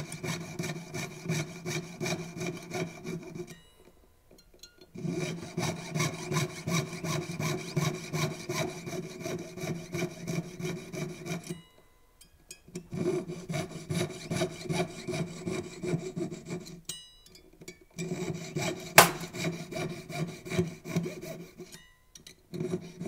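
A jeweler's saw with a 4/0 blade cuts through a ring along scored lines in steady, rapid back-and-forth rasping strokes, close up, broken by a few short pauses between bursts.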